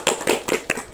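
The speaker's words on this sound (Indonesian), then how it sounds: "Tepuk tangan dulu untuk kita semua." Students in a classroom clap in four or five sharp, evenly spaced bursts, close and fairly loud.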